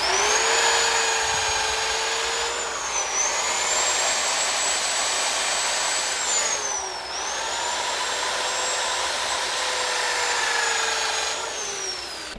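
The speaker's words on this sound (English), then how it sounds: "I'm going to sand this out now." A lathe runs at steady high speed while a turned ebony mulberry wood bowl is sanded, giving a loud, continuous whine with slight pitch dips as pressure changes and no voices.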